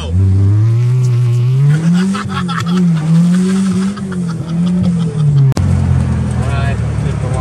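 A Mk2 car with a swapped 1.8T engine revs and pulls hard with rising and wavering pitch, road and tire noise around it, and a voice speaking briefly over it.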